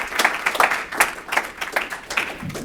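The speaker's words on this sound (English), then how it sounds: "extra round of applause for Aracelis Girmay" Audience clapping for poet Aracelis Girmay, a smallish crowd whose individual claps stay distinct in an uneven, close-sounding patter.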